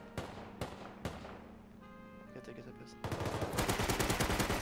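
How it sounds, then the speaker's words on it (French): Gunfire in the survival video game Rust: three sharp single shots ring out near the start, then after a brief lull a rapid, loud burst of automatic fire continues to the end. "T'entends les tirs, ils sont juste devant."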